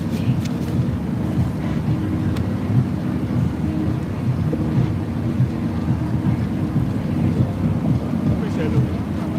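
Steady, heavy wind buffeting an outdoor microphone, a continuous low rumbling roar that fills the whole clip with no break.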